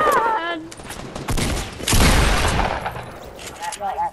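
Rapid bursts of gunfire from the Fortnite video game, a dense crackling volley in the middle, loud and close, with players talking over it at the start and end.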